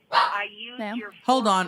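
Dogs barking repeatedly in short loud bursts close by, mixed with a person talking over them.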